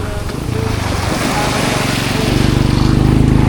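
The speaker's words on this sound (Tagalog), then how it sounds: "At ito yung ating sasakyan bangka ni Sir Saddam." A wooden outrigger fishing boat's engine drones steadily over rushing sea water and wind, loud and close, with a rhythmic throbbing that builds toward the end.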